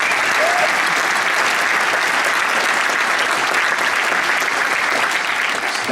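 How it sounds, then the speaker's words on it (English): A live audience at a drum show in London claps steadily for the sound crew, a dense, even wash of applause that fills the room and stays loud throughout without pause. "please, an applause for being very patient."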